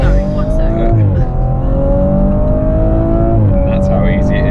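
A 2018 Audi RS4 Avant with quattro all-wheel drive accelerates hard to overtake, its engine a loud, close, rising roar with a quick gearshift dip and a second shift near the end, heard from inside the cabin with people talking over it.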